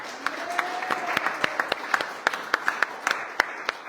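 A church congregation at a men's worship service applauds for the Lord, with sharp, scattered claps rising out of a steady wash of clapping and faint crowd voices.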